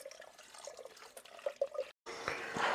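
Cold water flushing through a radiator heating system during a combi boiler installation gives a soft, uneven trickling and dripping, then a brief silence and a louder, steadier rush of water.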